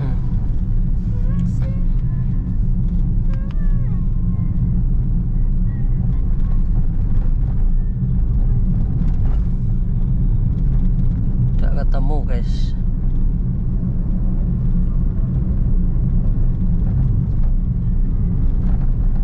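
Honda Brio car engine running steadily while driving and shifting into third gear, a continuous low rumble with road and wind noise throughout, someone speaking over it.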